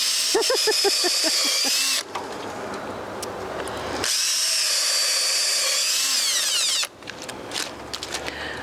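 A Makita power drill boring into pine wood, running in sustained high-pitched whirring bursts that change pitch as load shifts, with abrupt stops between runs.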